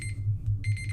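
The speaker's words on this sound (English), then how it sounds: "That's my alarm to make sure I actually wake up." A basic alarm clock beeps in quick, regular high-pitched pulses over a low hum, loud and near, with a brief gap mid-pattern before the beeping resumes.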